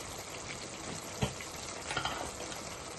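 Aloo methi curry of potatoes and fenugreek leaves cooking in a pan, a dense, constant close sizzle and bubble with a couple of brief stirring knocks, no voices.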